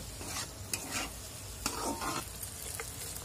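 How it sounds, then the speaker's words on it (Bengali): Chicken filling for khasta kachori scraped and stirred in a hot pan with chili powder, spoon strokes clattering in an uneven rhythm over a soft continuous sizzle, close and alone without voices. "এবার এটা ভালো করে নাড়াচাড়া করে নেব"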